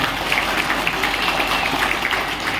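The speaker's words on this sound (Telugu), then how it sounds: "వీళ్ళందరినీ గట్టిగా చప్పట్లు కొట్టి అభినందించమని కోరుతాను." Dense, steady applause from an audience at a village governing council swearing-in ceremony, many hands clapping together without a break and filling the space for the whole stretch.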